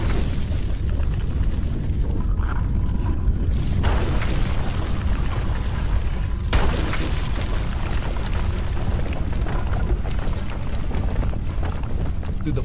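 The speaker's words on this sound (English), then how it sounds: "It was this final blast that dealt a devastating blow and broke the moon in half." A huge explosive blast that splits the moon in half, heard as a loud, sustained rumbling roar with a sharp surge near the start and another around the middle, continuing throughout with no pause.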